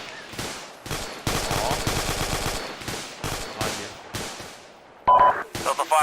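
Bursts of automatic and single-shot gunfire in ArmA 2, loud close volleys in rapid succession with brief gaps, and a radio-like beep near the end.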